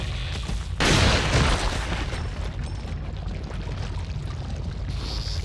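Gunshot in the Resident Evil 4 video game: one loud, booming blast rings out near the start, then settles into a dense, noisy game ambience that continues steadily to the end.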